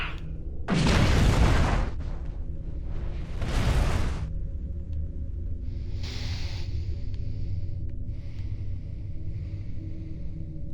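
Starship weapons in Star Trek Online fire and explode as two big roaring blasts a couple of seconds apart, each booming then fading into a low engine hum, followed by softer distant crackles.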